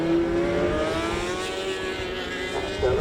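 A racing powerbike engine at full throttle heading onto the back straight of a circuit race, a loud steady high-pitched drone with a rising whine near the end, heard without commentary over it.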